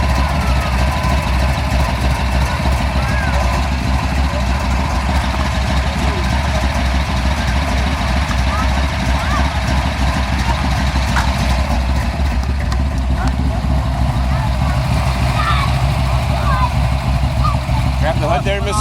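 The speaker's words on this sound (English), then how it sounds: "Nothing beats the sound of solid lifters in the morning." A cold Chevrolet 409 V8 idles steadily with its solid lifters clattering in a constant rattle, loud and close, while people talk nearby.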